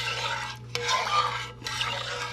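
Spoon stirring chicken and dumplings batter in a bowl, a steady scraping swish with two brief pauses, close and alone over a faint low kitchen hum.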